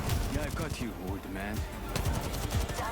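An energy-ammo SMG in Apex Legends fires rapid, dense bursts of crackling shots, with a voice talking over the gunfire throughout.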